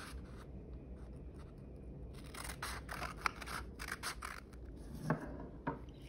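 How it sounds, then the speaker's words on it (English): Scissors snip slits into folded paper for a paper-weaving craft, a quiet series of short crisp cuts and rustles that bunch up midway and end in a few sharper snips. "Starting at the folded edge, cut each line to create slits."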